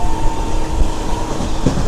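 Onboard the Garib Rath superfast express at speed, hauled by a WAG-9 locomotive, a dense continuous rumble carries a steady whine and a brief clatter near the end.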